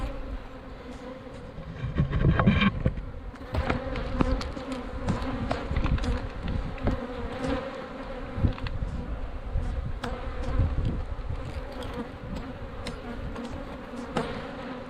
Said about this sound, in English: Bees, I would say.